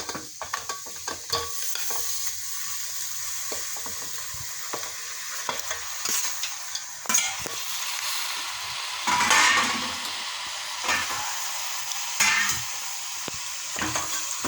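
Chicken sukka frying in a pan, a steady close sizzle broken by repeated scraping stirs of a utensil against the metal, with louder bursts of activity now and then and no voices.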